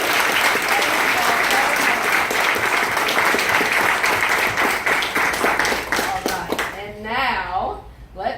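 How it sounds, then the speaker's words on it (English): Audience applause at an arts showcase grand finale, a dense continuous clapping that carries strongly for about six seconds, then thins and fades while a voice begins speaking near the end. "Let's give a round of applause to those."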